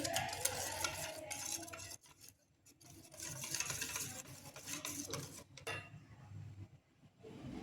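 A spoon stirs Gujarati kadhi in a pot, giving soft, faint swishing and scraping strokes with a couple of short pauses.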